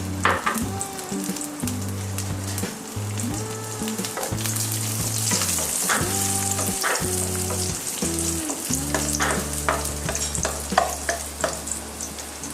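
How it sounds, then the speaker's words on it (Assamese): Raisins frying in a little refined oil in a wok give a steady, close sizzle, with scraping and stirring clatter throughout and no voices. "কেৰাহীত আমি অলপমান ৰিফাইন অইল দি প্ৰথমতে যিখিনি ড্ৰাই ফ্ৰুটছ লৈছিলোঁ সেইখিনি আমি অকণমান ফ্ৰাই কৰি ল'ম।"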